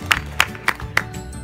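A few sharp, evenly spaced handclaps ring out from an audience cheering a volunteer at a knife-throwing show, four distinct claps in quick succession.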